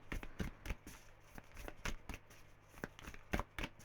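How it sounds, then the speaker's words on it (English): Tarot cards riffle and slap together in quick, uneven bursts, soft and close, as an awkward deck is shuffled repeatedly without any talking. "I think one more shuffle and then we'll take the top one"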